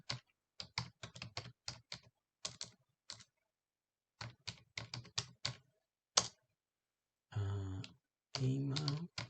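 Quick clicking bursts of typing on a computer keyboard come close and clear against silence as data is entered into a CRM form, followed by two longer rustling sounds at the end.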